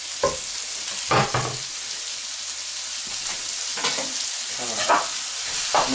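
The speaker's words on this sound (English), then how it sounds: "Mix up my hamburger and my vegetables here." Hamburger and vegetables stirred in a sizzling pan for pork chili, scraping utensil strokes and clatters recurring over a steady frying hiss, close up.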